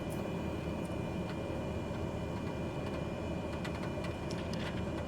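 Steady aircraft engine drone as a Martel Air plane taxis to general aviation parking at Canberra, a continuous low rumble with faint higher whines, no talk.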